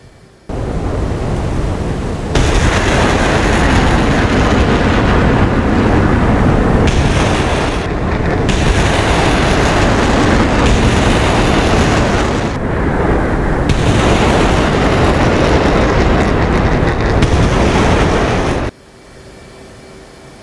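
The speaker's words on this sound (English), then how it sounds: "we have a destroyer that's firing Tomahawk cruise missiles at a Russian airfield" Tomahawk cruise missiles launching from a destroyer toward a Russian airfield in DCS World, a loud continuous roaring rush that stays steady for about sixteen seconds and then cuts off abruptly, with no voices.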